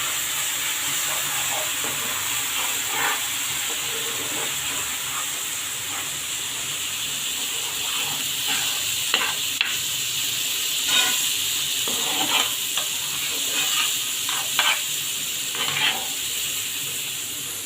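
Spices with turmeric and chili sauté for hilsa fish, making a loud, continuous hissing sizzle with a few sharp stirring clicks in the later part.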